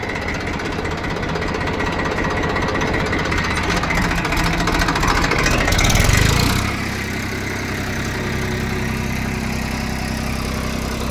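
A tractor ploughing a field chugs loudly and steadily with rattling machinery, swelling briefly before settling back to a rough, constant drone.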